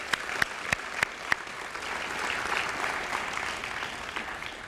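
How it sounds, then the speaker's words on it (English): Audience applause for young FFA members at a county fair showcase in Maryland. A few separate, sharp claps open, then build into a steady, even round of clapping from a modest crowd. "I'd just like to give them a big round of applause for everything they've done."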